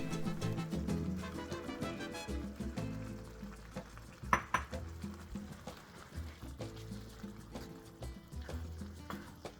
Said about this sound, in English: Mix in 1 cup of corn and 1 cup of drained black beans.